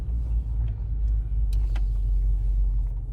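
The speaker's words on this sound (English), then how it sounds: "Put her in gear, and we can take her for a little rip and see just how she does." A car pulling away in gear on a driveway, its engine a steady low rumble with a faint rise as it moves off, plus small interior clicks and no talk.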